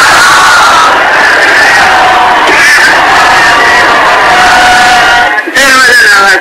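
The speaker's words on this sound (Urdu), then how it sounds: "نعرہ صلوات" A large crowd at a Shia majlis gathering chants salawat together in a loud, sustained, tonal unison for several seconds, then drops briefly before a fresh burst of voices.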